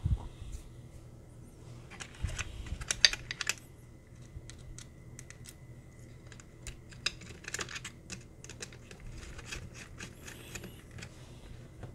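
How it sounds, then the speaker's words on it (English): Small screws being driven in to secure a URUAV USB charging board inside a FrSky X9 Lite radio transmitter, heard as soft, irregular clicks and scratchy taps scattered across a quiet room. "and secure it with 2 screws."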